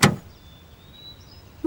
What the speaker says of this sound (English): The ute door slams.